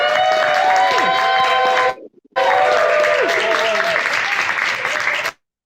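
An audience at a live variety show breaks into loud, sustained applause and cheering that drops out briefly, then resumes before stopping abruptly.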